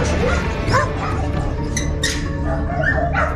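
A truffle-hunting dog barks in a few short yips and bow-wows, fairly close, over steady outdoor background noise with faint voices in the mix.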